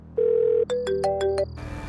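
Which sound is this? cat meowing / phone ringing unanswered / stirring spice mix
phone ringing unanswered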